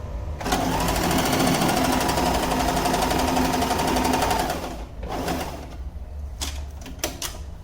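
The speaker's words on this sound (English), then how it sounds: "We will do 2 back stitches again so that we secure the end of the seam." A sewing machine stitches a wrap-over placket seam in a fast, steady, close rattling run for about four seconds, then stops, followed by quieter handling clicks and thumps.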